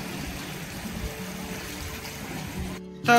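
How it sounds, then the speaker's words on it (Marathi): Lukewarm water falls from a stone cow-mouth spout on the way to a temple, a steady close splashing stream with rustling, cut off abruptly near the end. "मंदिराकडे जाताना एक गोमुख आहे, त्यातून पाणी पडतंय"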